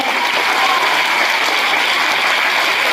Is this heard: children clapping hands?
yes